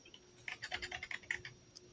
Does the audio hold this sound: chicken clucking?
no